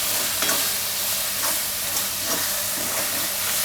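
Spinach mixed with salt is stirred in a pan for ulta palak paneer, giving a steady close sizzle and hiss with a few soft scrapes. No talking.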